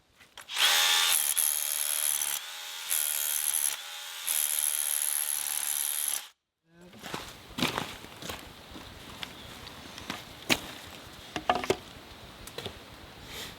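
A hammer drill roars loudly in bursts for about six seconds, cutting briefly between pulls, then stops; scrapes, knocks and footsteps follow on a block wall job site.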